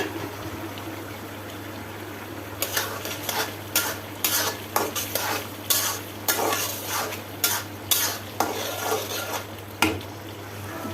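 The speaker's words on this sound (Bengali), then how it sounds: "এর জন্য মুড়িটা একটু ভাজা নিলাম চুলায়" Puffed rice (muri) dry-roasting in a pan on a kitchen stove, stirred again and again, giving a run of quick, close scraping and rustling strokes over a steady low hum.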